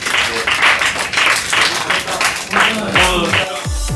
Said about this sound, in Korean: 투유한테도 다들 박수 응원의 박수 한 번 할겸 선수에게 박수 한번 하고